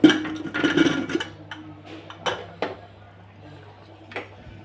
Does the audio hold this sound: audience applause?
no